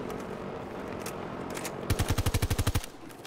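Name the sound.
gunfire from a video game, Battlefield 2042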